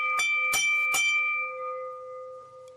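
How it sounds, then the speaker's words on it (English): A bell is struck three times in quick succession, bright clear tones that ring on and decay slowly, close and prominent with no talk. "We shall ring the bell."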